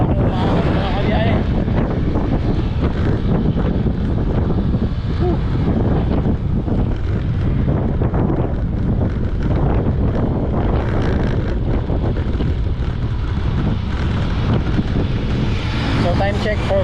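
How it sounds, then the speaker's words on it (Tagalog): Strong wind buffets the microphone during a motorcycle road trip in Anda, Pangasinan, a loud, continuous low roar that dominates throughout, with a voice talking underneath at times. "Grabe lakas ng hangin."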